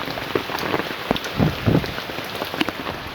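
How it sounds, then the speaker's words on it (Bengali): Heavy rain pours steadily outdoors on the road toward the Sundarbans, a dense hiss of drops striking surfaces with scattered louder splats and brief low thuds, close and continuous with no voices. "এখানে প্রচুর হচ্ছে বৃষ্টি।"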